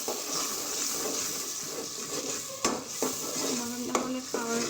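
Onions and spices being sautéed in a pot, continuous sizzling under a spoon scraping and stirring, with several metallic knocks against the pot near the end; no talking.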